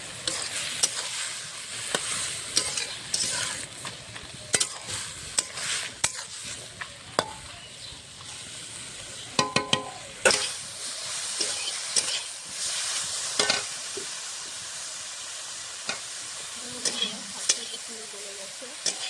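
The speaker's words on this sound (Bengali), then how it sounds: "নরম করে ভাজবো" Leafy greens with garlic frying in a pan give a steady sizzle, broken by sharp scraping clicks of a spatula stirring them, close up and continuing throughout.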